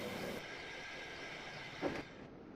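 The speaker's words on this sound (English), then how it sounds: "People in the streets stared as the train struggled past." A small steam train labours slowly along damp rails in a town street, a faint, steady rolling rumble and hiss heard from a distance.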